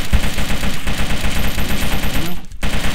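Shotgun and automatic gunfire in the survival video game DayZ, a loud, rapid rattling burst of close shots running almost continuously for a few seconds.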